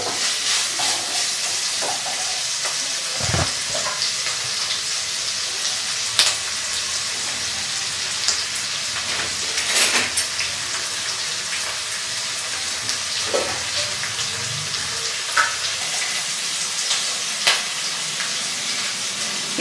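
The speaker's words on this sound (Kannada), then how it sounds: "ಇವಾಗ ಈರುಳ್ಳಿ, ಹಸಿರು ಮೆಣಸಿನಕಾಯಿ ಹಾಕೋಬಿಟ್ಟು ಕ್ಲೀನಾಗಿ ಬ್ರೌನ್ ಆಗೋವು ಫ್ರೈ ಮಾಡಬೇಕು" Onions and green chillies frying in a pan for mutton black pepper dry, a continuous sizzle with repeated stirring scrapes and occasional sharper clatters, close and fairly steady.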